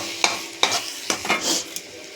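Two eggs frying on tadka masala cooked with onion, ginger, chili and tomato in a pan, a soft sizzle broken by several sharp scrapes and taps of a spatula stirring, close and brief.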